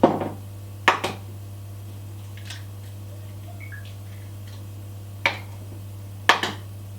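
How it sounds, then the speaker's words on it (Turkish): Sharp cracks sound as two eggs are broken into dough for Kayseri mantı, a few distinct taps spaced a second or more apart over a steady low kitchen hum, close and fairly quiet. "Ortasına iki tane yumurta kıracağım."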